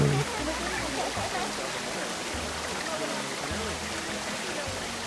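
In the Planet Coaster 2 video game, water waves wash in a steady rushing hiss, continuous and fairly loud with no break.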